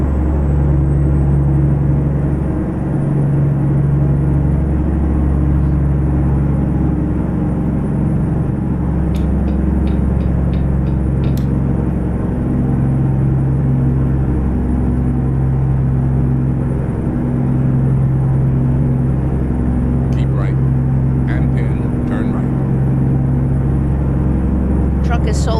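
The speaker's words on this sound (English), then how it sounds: "You hear the rumble of this truck." Heavy truck engine rumble in American Truck Simulator, a loud steady low drone with tonal hum held throughout, while a voice talks over it and a few faint clicks surface.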